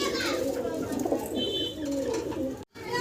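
Several pigeons coo in low, throaty bursts at a bird stall selling breeding birds, with a brief dropout near the end and no talk over them.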